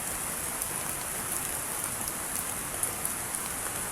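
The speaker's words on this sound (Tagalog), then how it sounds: "Kahit umuulan." Rain falls steadily in a dense, even hiss of drops on surfaces, with occasional sharper patters and no voices.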